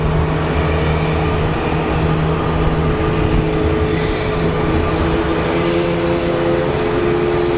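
An American Airlines airliner, flight 1870, comes in to land at Phoenix Sky Harbor, its engines a steady, loud broadband roar with sustained tonal whine holding throughout, no voices.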